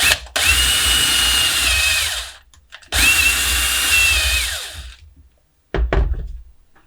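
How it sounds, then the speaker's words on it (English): A cordless drill with a dying battery whines in two long bursts of about two seconds each, close and loud, followed by a couple of short thunks. "I think the battery on my drill is dying."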